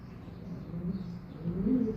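Low, soft pigeon cooing murmurs continuously, swelling slightly louder toward the end, with no talking over it.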